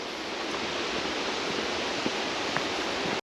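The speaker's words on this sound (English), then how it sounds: "You can really hear the waterfall." A waterfall heard from a trail as it draws near, a steady broadband rush of falling water with a couple of faint clicks, continuous until it cuts off abruptly at the end.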